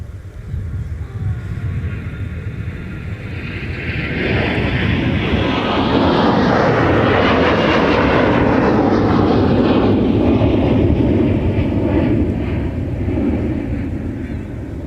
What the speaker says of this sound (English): So that departure already making that left turn after rotating is headed to Phoenix, Delta